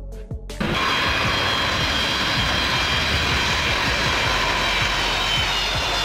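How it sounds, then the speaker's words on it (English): Engines of an Antonov An-124 Ruslan heavy cargo aircraft roar in a steady, loud, broad rumble that bursts in after a brief quiet start and holds for several seconds. "a heavy transport aircraft designed and manufactured by Antei"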